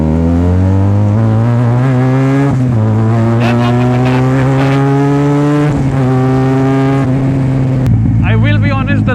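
A Benelli TNT 300 motorcycle with a very loud exhaust revs hard through the gears on a night ride, onboard and close, rising engine pitch with shifts and a rough burble near the end.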